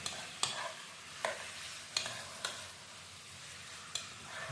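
Chicken stirred in a pot for tinola with carrots, a soft steady sizzle beneath a handful of distinct utensil clacks against the pot, spaced irregularly and heard fairly close.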